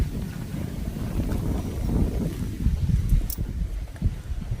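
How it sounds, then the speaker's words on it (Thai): A cool wind blows across an open field of Siam tulips in a national park in Chaiyaphum, Thailand, making a continuous rumbling buffet on the microphone that swells and eases for several seconds with no talking. "ลมเย็นสบายนะคะ"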